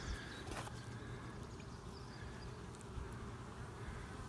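Honey bees in a nucleus hive, a faint continuous buzzing hum close by, steady throughout with no voices.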